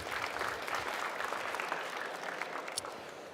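Audience applause at the Formnext trade fair industry stage, steady clapping from a crowd that carries on for a few seconds at moderate volume without fading.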